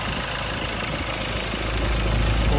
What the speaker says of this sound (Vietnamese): Và đây là cái tiếng động cơ đang hoạt động nhá.